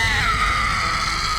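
A woman lets out a loud, piercing scream that holds steady for over a second and slowly slides downward in pitch, heard alone without speech.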